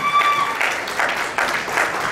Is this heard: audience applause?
yes